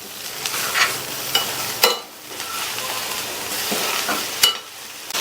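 Ridge gourd being sautéed and stirred with a coconut mixture in a pan, giving a steady close sizzle with repeated scraping stir strokes and a few sharper utensil clicks against the pan.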